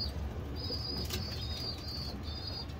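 Racing pigeons moving about inside a loft, with a soft flutter of flapping wings, faint chirps and thin high calls repeating in the background, close but quiet.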